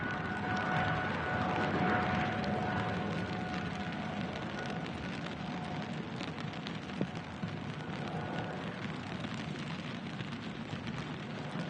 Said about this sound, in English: The rain is picking back up again.